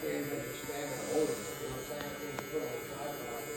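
Barber's hair clippers, with the blade open, fading a neck taper, a steady close electric buzz that runs throughout with small shifts in tone as the blade moves over the skin.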